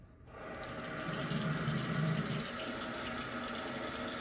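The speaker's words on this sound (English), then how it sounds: "turn on the sink into warm water" Kitchen sink tap turned on and running warm water in a steady, even stream close by, starting with a short burst and then holding constant with no voices.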